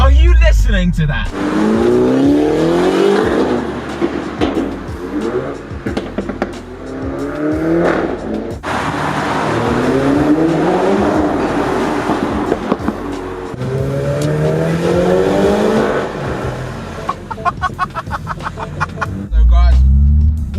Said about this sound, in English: So now just gonna try and hunt for a tunnel so you can hear what this car sounds like.